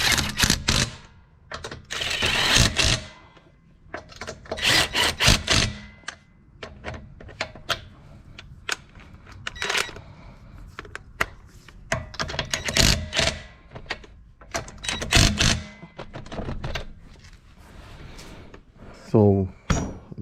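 Wheel nuts being tightened in a star pattern while a tire is replaced: a long series of sharp metallic clicks and clanks in irregular bursts, ending in a quick ratcheting rattle, close and fairly loud.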